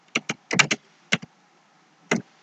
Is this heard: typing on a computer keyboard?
yes